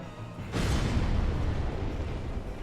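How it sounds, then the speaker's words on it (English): An explosion shockwave in the video game Dark Souls sets off as a sudden deep boom, then rolls on as a loud, rumbling blast that holds steady for a couple of seconds. "that's the explosion shockwave"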